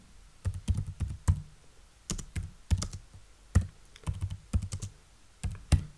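Quick bursts of keystrokes on a computer keyboard while a MySQL login command is entered, close and clear, with short pauses between clusters of taps and no talking.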